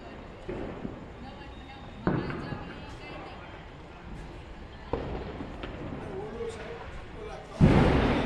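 Several sharp firecracker bangs burst out at irregular intervals, with a louder crackling burst near the end, over background chatter and people talking.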